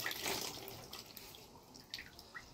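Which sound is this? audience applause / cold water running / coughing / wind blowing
cold water running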